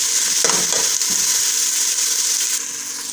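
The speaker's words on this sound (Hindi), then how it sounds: "थोड़ा सा प्याज को सौते कर लेंगे।" Onions sauté in hot cooking oil in a pan for a keema spaghetti, giving a loud, steady, close sizzle with a few stirring scrapes early on and no talking over it.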